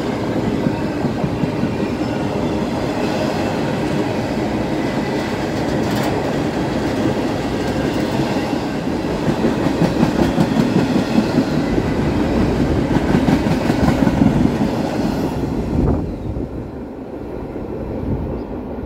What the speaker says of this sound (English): This train also has to work Harrisburg GI-8 en route to its destination at Port Newark.